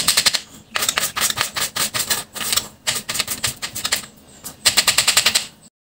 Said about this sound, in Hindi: ये सब चीज़ें भी हम साथ में पकड़ लेंगे और इसे बारीक कट कर देंगे।